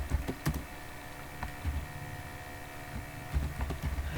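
A computer keyboard is typed on while code is written, giving scattered light clicks in short bursts with pauses between them, soft and close against a faint background hum.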